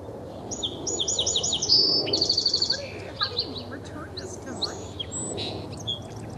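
Recorded soft song from a bird plays back in rapid high trills and chirps, thin and clear over a low rumbling background of voices and room noise.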